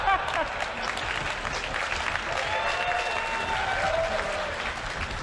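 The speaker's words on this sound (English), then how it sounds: "I get applause for playing bad." Crowd applause sound effect from the video game Doom Eternal, a sustained burst of clapping lasting several seconds, fairly loud and even, with faint game sounds underneath.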